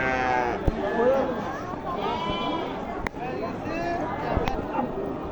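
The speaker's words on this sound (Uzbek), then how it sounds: "Qo'ylar." Sheep at a livestock market in Khazarasp bleat several times in wavering, overlapping cries, close and moderately loud, with people talking in the background.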